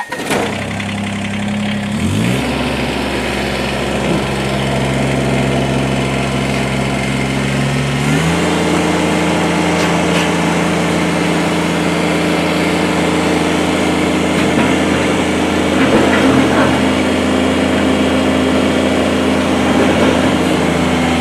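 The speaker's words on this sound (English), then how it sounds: "We're going to fire this tractor up. We're going to run it around." A 2018 Kubota BX2380 compact tractor engine starts and settles into a steady, loud idle, shifting pitch briefly before running evenly and continuously up close.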